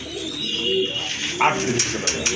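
Pigeons coo at a busy pigeon market, soft repeated throaty calls close by, mixed with chatter and other bird sounds as people talk in the background.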